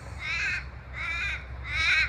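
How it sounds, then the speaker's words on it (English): Crows cawing outdoors during a squabble with magpies, three loud harsh caws in steady succession, fairly close, with no talking. "So there's my crow army."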